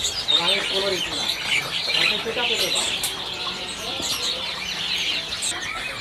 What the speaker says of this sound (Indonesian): Kalau ini ada juga stok burung seriwang, teman-teman, atau tali pocong.